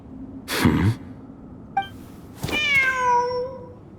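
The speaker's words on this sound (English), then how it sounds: "Wait, there it is!" In the game Genshin Impact, a cat gives one clear, drawn-out meow after a short breathy burst and a small click. Nearby and alone, with no talk.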